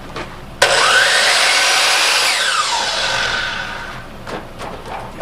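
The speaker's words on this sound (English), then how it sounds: "I love this miter saw because I can cut a 2x12 or in this case 2x10s." A miter saw cuts through 2x10 lumber for a basic sandbox frame: one loud, sustained bright cutting whine of about three and a half seconds that slowly fades as the blade spins down, followed by a few faint clicks and knocks.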